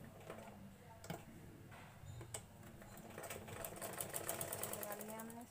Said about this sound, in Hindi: अब इस पर हमें ऐसे करके सिलाई लगा देंगे।